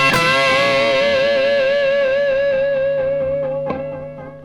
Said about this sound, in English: you just hold it for a while and let it ring out and feed back